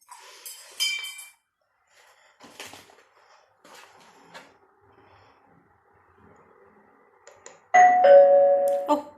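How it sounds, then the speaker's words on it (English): A doorbell chimes loudly near the end, ringing out clearly after a stretch of quiet clinks and faint rustling. "Somebody's rung the doorbell."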